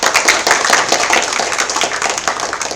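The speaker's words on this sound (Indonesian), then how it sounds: "Tepuk tangan dulu untuk Kapolsek kita." A crowd at the opening of a Ramadan short Islamic school program applauds the local police chief, a dense, continuous patter of many hands clapping at once, loud and steady throughout.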